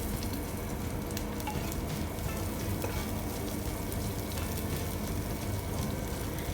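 Chopped garlic with dried red chilies and green chili sizzles in about one and a half tablespoons of hot oil, a dense, steady crackle of frying that stays even and close from start to finish.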